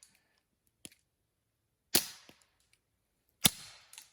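A BB gun fires outdoors at a campsite, three sharp cracks spaced a second or so apart with faint clicks between, each shot sounding close and abrupt.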